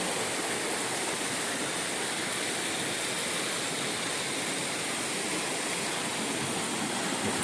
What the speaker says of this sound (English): The creek we've been following below.